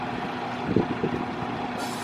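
A truck on a cranberry farm idles at moderate distance, a steady low engine hum with a constant tone and a couple of short bumps or knocks, with no talking.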